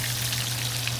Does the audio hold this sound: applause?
no